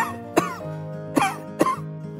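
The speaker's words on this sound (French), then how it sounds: "Est-ce que tu peux tousser un petit peu?" A child coughs three times in short, sharp bursts, spaced roughly evenly, close up and clear, during a pretend doctor's check-up with toys, with a faint steady hum underneath.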